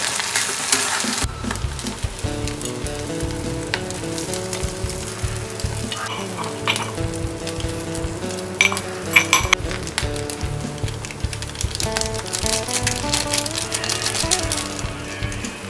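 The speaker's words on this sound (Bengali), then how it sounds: "পেঁয়াজটা ভাজা হয়ে গেছে, এবার এর মধ্যে দিয়ে দিচ্ছি ডিম। তো এবার ভালো করে নাড়াকাটা করে নেবো।" Egg stirred into fried onions in a hot pan, a continuous loud sizzle with repeated scraping and clinking of the spatula against the pan, close up and without talk.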